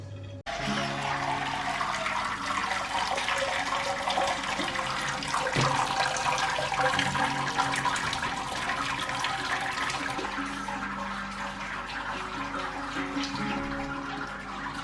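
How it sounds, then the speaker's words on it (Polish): Hot water at 77 degrees is poured slowly over a basket of grain while sparging a homebrew mango IPA mash. It makes a steady, close splashing and trickling that runs almost continuously for the whole stretch, with no talking. "Będę musiał wyciągnąć cały koszyk z ziarnem i polewać go powoli wodą o temperaturze 77 stopni."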